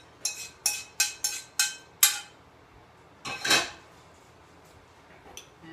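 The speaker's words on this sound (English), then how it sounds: "So I'm going to mix all my wet ingredients with that oil. Then we're going to incorporate it in here into the dry ingredients." A spoon clinks sharply against a mixing bowl while oil and other wet ingredients are stirred into dry ingredients. Six quick, close taps come in a row, then a longer scraping stir follows, with no voices.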